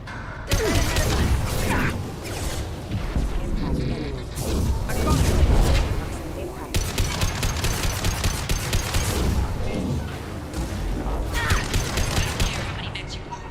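Gunfire in the video game Mass Effect 2: dense rapid weapon fire and mechanical clatter roar continuously at close range, with a voice talking intermittently over the combat noise.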